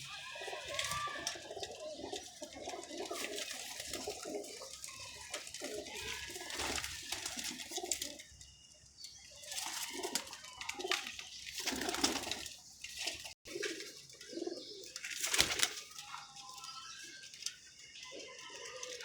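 Several pigeons coo steadily for a long stretch, soft throaty calls overlapping close by, with some faint background noise.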